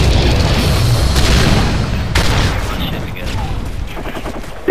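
Gunfire and booming blasts from a multiplayer shooter game, a dense rumbling barrage that fades somewhat toward the end before a final sharp hit.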